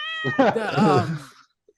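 A single drawn-out cat meow, clear and close, rising and then bending down before trailing off into silence.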